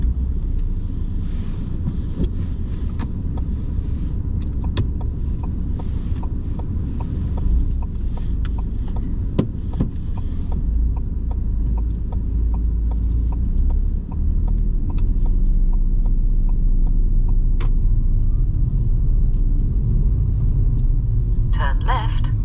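A car driving on the road during a UK driving test at Kingstanding, with a steady close engine and tyre rumble continuing throughout under occasional talk.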